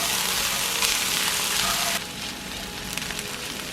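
Teriyaki-flavored tofu and dumplings sizzling in a pan, a dense, steady frying hiss that drops a little in level partway through, with no voices.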